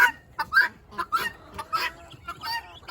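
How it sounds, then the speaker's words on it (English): Guinea fowl calling loudly, a series of sharp, harsh repeated cries at a quick uneven rhythm, fairly near. "Guineas are loud."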